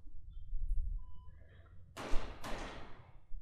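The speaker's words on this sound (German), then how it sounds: "Hörte sich an wie Schüsse." Gunshots in the point-and-click adventure game Geheimakte 2: Puritas Cordis, two sharp bursts about half a second apart after quiet low ambience and faint tones, moderately loud with no talking.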